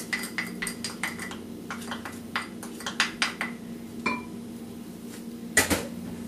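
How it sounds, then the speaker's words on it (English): A spoon stirs cookie crumbs, sugar and melted unsalted butter in a bowl, giving a series of clinks and scrapes against the bowl that come in uneven bursts, close and fairly soft. "So you just want to stir your cookie crumbs and sugar until everything, all the cookie crumbs are coated"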